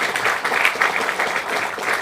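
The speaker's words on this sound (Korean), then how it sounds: "다시 한번 우리 큰 박수 쳐주시고" An audience at a Korean political party gathering gives a big round of applause, a steady wash of many hands clapping at moderate volume that continues throughout.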